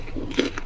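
A single crisp bite into a crunchy fried egg dish made to taste like fried chicken, with a short crackling crunch peaking near the middle, close and fairly quiet.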